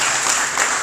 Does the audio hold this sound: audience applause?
yes